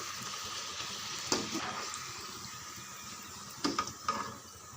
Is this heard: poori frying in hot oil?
yes